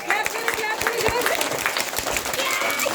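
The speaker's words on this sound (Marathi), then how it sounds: "जोरदार टाळ्या वाजवायचे" Nursery school children and their audience applaud at a school event welcoming a visiting Marathi actress, with clapping and crowd noise mixed under a speaking voice.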